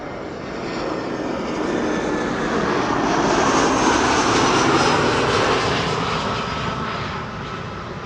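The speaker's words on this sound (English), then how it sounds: "German registered Lufthansa A320 in the Star Alliance livery." Lufthansa Airbus A320 in Star Alliance livery arriving at Amsterdam Schiphol gives a loud, continuous jet-engine roar that builds toward the middle and then slowly recedes.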